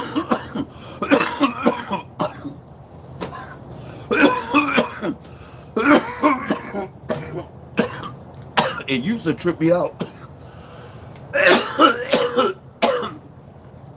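A person talks and breaks off into several harsh, loud coughs, with bursts of speech between them.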